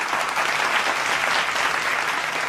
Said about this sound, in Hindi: जोरदार तालियों से एक बार फिर अभिनंदन